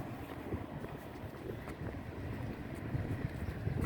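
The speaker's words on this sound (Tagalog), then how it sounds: "Kung naririnig nyo yung hangin. Umihip. Lakas." Strong wind gusts across an outdoor waterfront near a marina, a constant close rumbling roar buffeting the microphone, rising and falling in strength with no speech.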